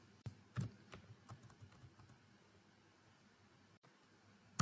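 C code being typed on a computer keyboard, with quiet, sparse key taps and a few louder presses close by, then a short pause and a final sharp click.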